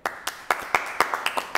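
Audience clapping for guests at a live hosted show, a series of sharp, fairly close claps in an uneven rhythm, loud and distinct with no talk over them.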